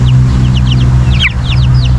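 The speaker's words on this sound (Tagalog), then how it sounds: "Ito yung ating Rhode Island na cock." Rhode Island Red rooster making repeated short clucking calls close by over a steady low hum, with a brief louder call near the middle.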